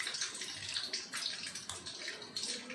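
Hot water poured over pieces of paneer to soak them: a continuous, splashy rush of liquid, close and fairly loud throughout.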